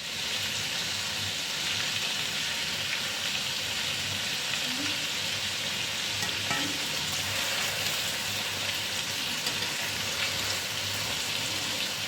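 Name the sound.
chicken frying in a pan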